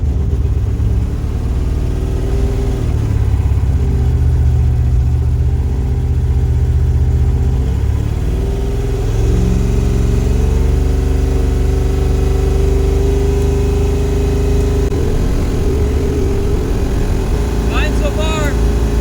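A car with a broken gas gauge and a hydroboost brake problem drones along with a loud, steady mid-pitched engine hum, shifting slightly as it accelerates, while someone talks over it.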